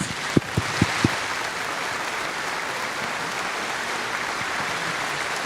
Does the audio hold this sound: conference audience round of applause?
yes